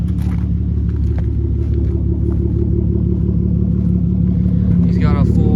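A Datsun 521 fitted with a titanium ISR catback exhaust idles with a steady, deep, loud rumble close by, continuous throughout, with light clatter and people talking underneath.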